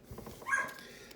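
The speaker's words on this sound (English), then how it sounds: "Sorry, the dog's barking in the background." A dog gives a brief bark or yip in the background of an indoor room, a single faint short burst with no talk over it.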